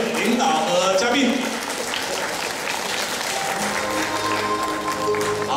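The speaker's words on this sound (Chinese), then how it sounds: "我们热烈掌声送给各位领导和嘉宾" Warm, continuous applause from a seated conference audience seeing off leaders and guests, even clapping throughout with a few voices audible early on.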